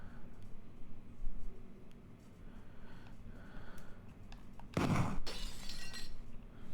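A shot strikes a box and shatters it, a single loud sharp crack and breaking burst standing out near the end over a low steady background.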